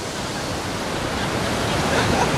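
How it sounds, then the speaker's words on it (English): A raging mountain river rushes beside a hillside spot, a steady, loud broadband roar of churning water that fills the whole stretch without pause. "We've got the raging river next to us."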